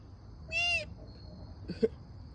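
Loud birds calling outdoors in a backyard vegetable garden: two separate harsh, tonal calls, the first longer and the second a short burst a moment later, fairly close over a quiet background.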